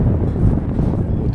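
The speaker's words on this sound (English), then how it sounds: "A lot easier than trying to fight that wind." Strong wind buffets a microphone while fishing from a boat, a loud continuous low roar with gusty fluctuations.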